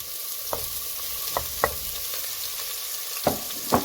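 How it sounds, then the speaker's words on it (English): Onions and green onions hit hot olive oil in a pan for homemade Italian lasagne, giving a steady close sizzle broken by a few sharp pops and stirring clicks, with no voices. "as soon as the olive oil is going to hit, I'm going to add some of my onions"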